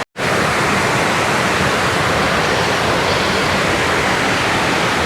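Water running over rocks at Palakkayam Thattu in Kannur, a loud, steady, unbroken rush that fills the whole span after a brief silent start.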